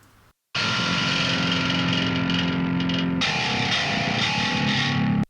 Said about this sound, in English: The treble part is heavily distorted.